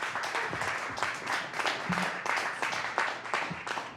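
A panel audience applauds with brisk, steady clapping of many hands, moderately loud and continuous throughout.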